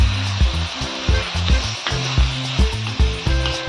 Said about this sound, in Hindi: तो इनको थोड़ा सा लाइट ब्राउन होने तक हम अच्छे से भून लेंगे